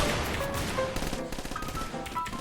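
Rapid automatic gunfire crackles through a shooter game match, a dense continuous burst of shots layered with game sound effects and no talking.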